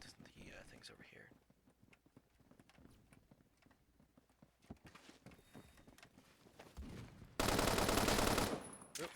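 Gunfire in a shooting video game, scattered sharp shots and bursts at low level, ending in a loud dense stretch of fire, with quiet talk over parts of it.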